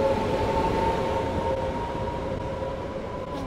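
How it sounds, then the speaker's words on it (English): A Polish sleeper train from Krakow to Prague, heard as a steady rail rumble with a sustained whining tone overhead, constant and fairly close, with no talking. "This is our beautiful Polish train."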